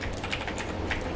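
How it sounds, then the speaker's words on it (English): Rapid keystrokes on a computer keyboard during a Go programming workshop, a steady run of close, crisp clicks with no talking. "So I'm just typing"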